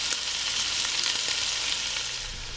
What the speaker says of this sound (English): we want to cook the onions until they just become translucent